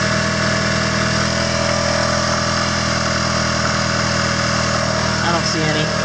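Engine of a Mitsubishi Galant VR4 idling steadily while the car sits raised on a lift after an oil change, a close, even rumble with no change in speed.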